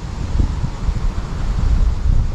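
Strong wind buffets the microphone with continuous low rumbling gusts, loud and close, with no other clear sounds.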